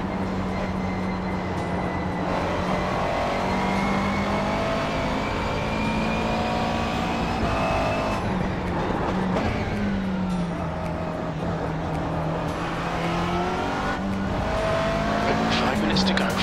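A McLaren MP4 12C GT3 race car engine roars in the iRacing video game at Sebring International Raceway, loud and continuous with rising and falling revs through gear changes, with a spotter's voice speaking over it.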